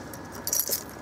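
Two sets of keys for a 2004 Elddis Avante five-berth caravan jangle briefly and close by, a short bright metallic rattle with no talking.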